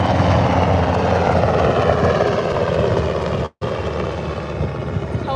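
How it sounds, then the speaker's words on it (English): Helicopter rotors thumping loudly and steadily overhead above a beach, a continuous close drone that cuts out for an instant midway and then resumes. "Helicopters."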